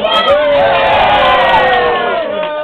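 Children cheer and shout excitedly at a birthday present being unboxed, a loud, sustained burst of high young voices whooping together throughout.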